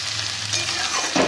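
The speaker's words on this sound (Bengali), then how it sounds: "সবজিটা ভাজা ভাজা হোক" Vegetables with capsicum fry in a pan for chicken chow mein, giving a close, steady crackling sizzle with light stirring scrapes throughout.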